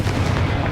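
A Confringo blasting curse bursts in the Hogwarts Legacy video game, a heavy, continuous booming rumble that stays loud and dense through the short moment, with no talk over it.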